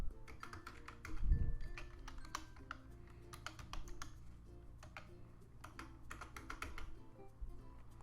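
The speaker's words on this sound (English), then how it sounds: "I'm going to enter my access code." Fingers typing an access code on a computer keyboard, quick irregular clusters of crisp key taps with brief pauses between bursts, close and fairly quiet, with no talking.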